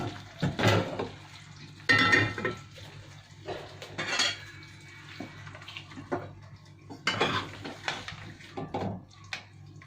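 Metal cooking pot handled in a home kitchen while layering chicken biryani with rice, giving irregular clanks, scrapes and knocks in uneven bursts, fairly close, with faint running water and no talk.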